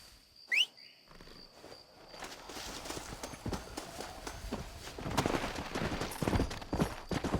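Horse hooves pound in a fast, steady gallop amid outdoor commotion in the video game Red Dead Redemption, with a sharp whistle-like call near the start; no clear speech.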